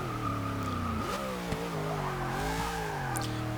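A 1993 Ford SVT Cobra R in Forza 6, its engine droning loud and steady with pitch rising and dipping as it revs, while the tires squeal and skid in a struggle for traction.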